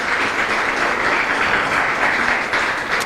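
A church congregation claps for the Lord in a continuous, even wash of applause lasting about three seconds, fairly loud and close, with no speech on top.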